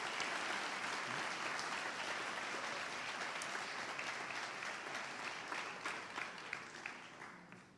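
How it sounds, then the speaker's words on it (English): A high school class day audience at Floyd Central gives athletes a sustained round of applause, dense clapping from a crowd that thins slightly toward the end. "let's give them a round of applause."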